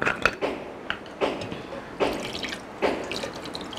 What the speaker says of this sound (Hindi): ठंडा पानी डालेंगे